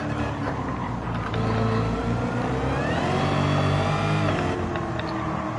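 A car in a video game revs and accelerates, its engine droning loud and close with a rising pitch as it pulls through the gears, steady and alone.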